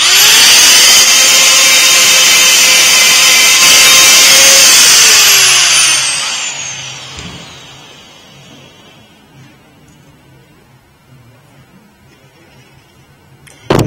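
Die grinder removing a corrosion ring from a rear brake drum on a 2004 Ford Fiesta 1.25: a loud, steady high-pitched whine for about six seconds, then it spins down and fades to quiet with a small clunk at the end.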